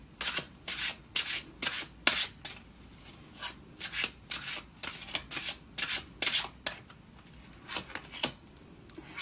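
Tarot cards shuffled and drawn by hand in a quiet room, a steady run of soft papery riffles and slides in irregular bursts, close and fairly quiet.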